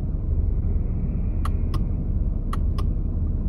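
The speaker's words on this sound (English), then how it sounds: "Do you hear my blinker right now?" A car's turn signal blinker clicking in a steady rhythm inside a moving car, four sharp ticks heard over a constant low road rumble and engine hum.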